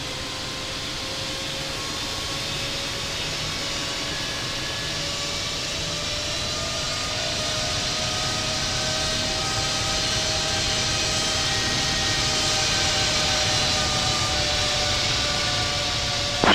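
Jet airliner engines idle and whine steadily while the aircraft taxis at New York's JFK airport in the Infinite Flight simulator, with a constant broad roar and tones that rise slowly and grow slightly louder throughout, no voices.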